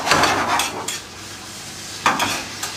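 Canned chopped tomatoes are tipped into a pan and stirred, with a few scraping, clinking strokes of a utensil against metal and a soft wet sizzle in between, close and fairly quiet, with no talk.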